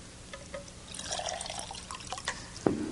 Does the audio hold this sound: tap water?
yes